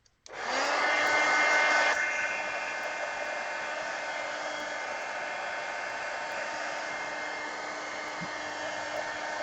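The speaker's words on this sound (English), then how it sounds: "So I'm going to just dry that real quick with the heat gun." Heat gun drying a coat of matte medium on altered book pages, switching on with a sharp click into a loud, steady close-up blowing roar that settles slightly and runs on without pause.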